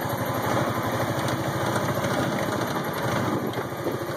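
Terex 750 utility vehicle engine idling close by in a steady, rapid mechanical putter with light vibration, loud and unbroken, no talking.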